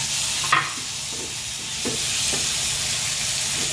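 Tomatoes hit a hot frying pan with buro, setting off a broad, steady sizzle close by, with a sharp clatter as they drop in and a few light stirring scrapes and taps under the frying.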